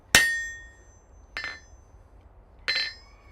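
Three separate hammer blows ring out on a steel collar in a blacksmith's smithy, each a sharp metallic clang with a bright ringing tail, spaced about a second and a quarter apart and close by.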